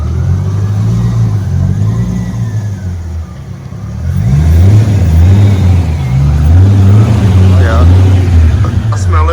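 A C5 Corvette idles and then revs as it backs up after a clutch job, a low rhythmic engine drone that pulses with throttle, close by, with people talking over it.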